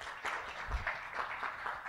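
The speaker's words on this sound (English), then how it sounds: "Give yourselves a big round of applause" Audience applause in a meeting hall, thin and fairly quiet, a steady spatter of scattered clapping running through the full two seconds without voices.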